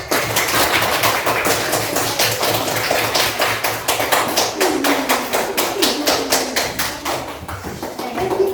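Classroom applause after a student group presents a diorama at a school coaching session, a loose patter of claps from a small group lasting throughout, with low voices murmuring underneath.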